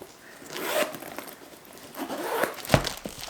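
A zipper on a backpack compartment pulled open in a few quick rasping strokes, close and fairly loud, with a short pause between pulls.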